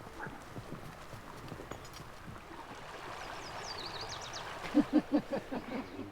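Horses walking on a trail through woods near the Encampment River, soft rhythmic hoof clip-clops growing louder and clearer toward the end over faint running water and a distant bird.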